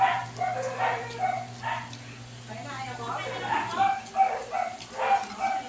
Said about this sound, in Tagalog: Yan yung mga aso. Tahulan. Tahulan.